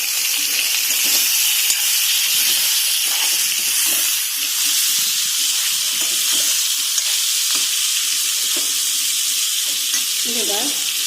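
Khamira and sweet-sour pumpkin cook over high heat in a Dogra-style dish, giving a loud, continuous hiss and sizzle close by, broken by scattered stirring scrapes and soft knocks.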